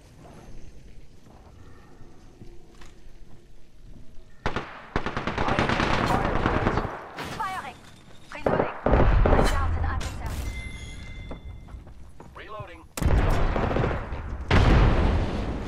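Automatic gunfire from Apex Legends, with rapid bursts of shots and loud booming impacts that come in clusters across the clip, close and heavy, while a player talks over it.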